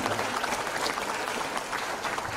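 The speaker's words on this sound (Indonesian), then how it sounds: "Tepuk tangan untuk Pak Deddy." Audience applause at a book review event at Universitas Baiturrahmah, honoring author Pak Deddy: a steady, dense wash of many hands clapping together, moderately loud, continuous throughout with no pause.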